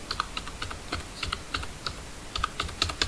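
Rapid typing on a computer keyboard while writing in MS Word, a steady stream of light, close keystroke clicks with brief pauses and no talking.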